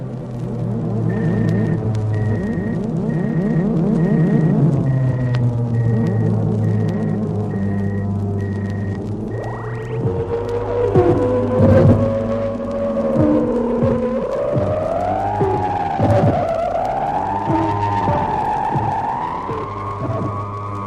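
A radio drama spaceship decelerates below light speed, heard as layered electronic drones and a steady low hum with a high tone that cuts off, then warbling, swooping pitched effects rising and falling over the rumble.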